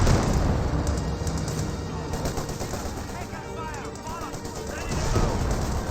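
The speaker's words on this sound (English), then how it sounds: "And more grenades being thrown from the common tank." Grenades thrown by a commando tank crew in the Company of Heroes 2 video game burst among a continuous, dense clatter of battle gunfire and explosions, loud and close throughout.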